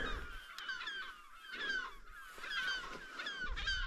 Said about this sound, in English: there's a flock of seagulls up here with us. And they're not happy.